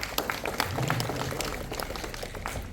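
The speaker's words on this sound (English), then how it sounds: "Please give him a big clap and welcome." An audience claps to welcome Advocate Carlos at the opening of an integrated rehabilitation centre for addicts, a dense, steady patter of many hands that carries on evenly for a few seconds.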